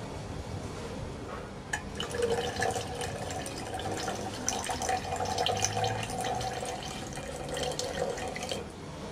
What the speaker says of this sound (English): But if we add some water with less mass than the oil, we'll just put a little bit in and see what happens.